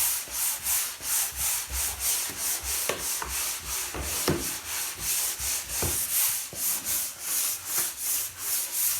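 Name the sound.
hand sanding a varnished wooden floor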